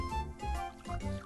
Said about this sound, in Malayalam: നീ എടുത്തൊഴിക്കടി.